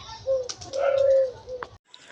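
Pigeons coo in a breeding loft where eggs hatch and young are raised, a few soft throaty coos rising and falling close by, with a brief pause near the end.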